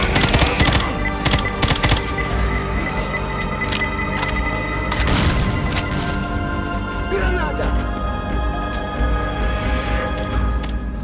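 Grenade blast and chaotic gunfire in the zombie shooter Left 4 Dead 2, a dense barrage of loud bursts and crashes layered with game noise and someone talking throughout.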